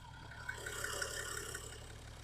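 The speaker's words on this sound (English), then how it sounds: "you can listen to the engine. I don't know if you're gonna hear much because it's very quiet for a 3-liter diesel" A 2011 BMW X3 xDrive30d with a 3-liter diesel idles quietly and steadily, a soft low hum with faint mid-range clatter heard close and unchanging.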